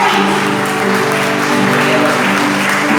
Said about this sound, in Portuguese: Quem crê nisso pode aplaudir o Senhor.